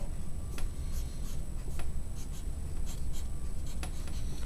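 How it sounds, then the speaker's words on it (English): A marker scratches steadily across the underside of a pattern car, with short, repeated strokes that are close and fairly quiet over a constant background hiss, and no talk. "You're going to write your name"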